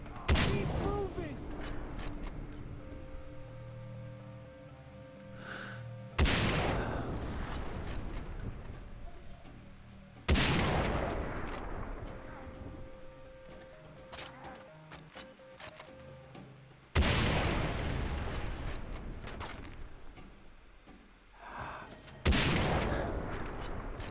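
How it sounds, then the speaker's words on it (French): Gunfire bursts in the video game Far Cry 3, with several loud shot volleys spaced several seconds apart over game sounds and background music. "Il me tire dessus lui."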